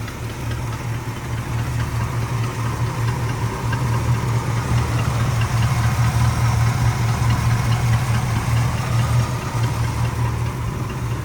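A hearse's engine idles with the choke cable disconnected, after the carburetor was tuned and the distributor timed, heard up close in the engine bay as a steady, even low hum and rumble with no voices.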